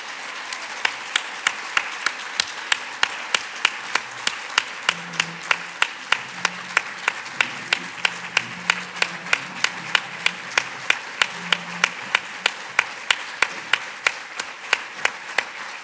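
A conference closing session where the audience claps for volunteers, steady unison rhythmic clapping at an even beat that continues throughout, with faint murmuring underneath.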